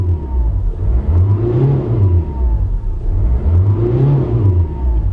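A Peugeot Bipper van's 1.4 turbo diesel engine revs up twice in a row, rising and falling in pitch, loud and close, over a steady idling rumble.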